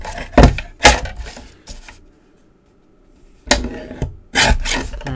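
Designer series paper being trimmed by a quarter inch for an Art Deco card, heard as a few short, sharp rasping cuts in two bursts separated by a quiet pause, close and fairly loud with no talking.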